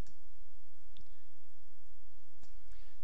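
A computer mouse clicks twice in accounting software, the two sharp, isolated clicks about a second and a half apart over a low, constant electrical hum.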